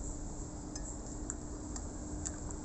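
A spoon stirring a drink made with hot water from a dispenser, giving faint, irregular metallic clinks and ticks against the glass over a steady low background hum.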